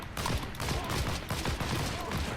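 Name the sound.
gunfire in the video game Heroes & Generals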